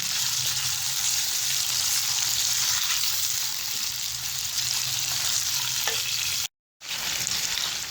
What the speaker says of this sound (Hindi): इसी तरह हम सारे चिकन को फ्राई कर लेंगे।